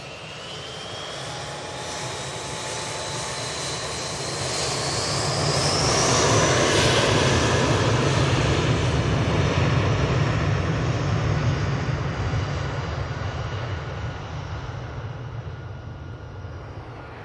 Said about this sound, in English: British Airways coming on for the shuttle back down to Heathrow.